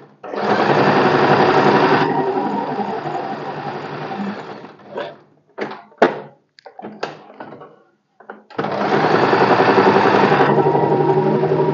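A sewing machine stitches tucks on a blouse, running in a long, close, steady whir, then a string of quick stop-start bursts, then another long continuous run.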